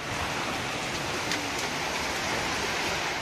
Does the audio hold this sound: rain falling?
yes